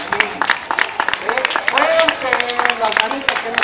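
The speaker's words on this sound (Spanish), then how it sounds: "denle el aplauso a la coordinadora de esa obra, de este trabajo, la maestra Yasmín" Applause from the audience for a teacher at a primary school Christmas event, a steady patter of many clapping hands with an amplified announcer's voice speaking over it.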